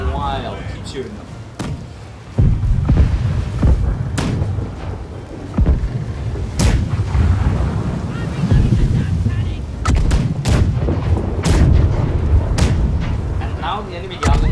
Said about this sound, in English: We're gonna fire left side cannons for a while.